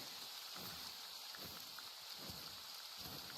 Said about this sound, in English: Actually, the rain might help